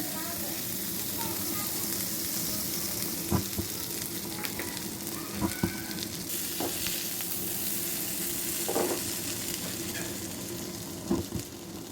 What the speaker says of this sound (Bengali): আমি এখন বাটার দিয়ে মাংসটা ভেজে নেব।